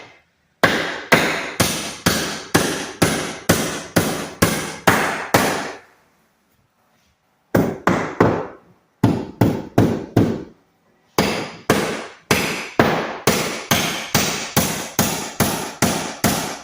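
Hammer blows drive nails into wood while a 2x4 is fixed in place during removal of an ironing board cabinet, loud rapid strikes in bursts with short pauses between, no talking.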